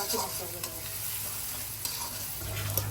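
Pangas fish frying with ginger and garlic paste, a steady close sizzle with stirring scrapes and a low hum underneath, no talking.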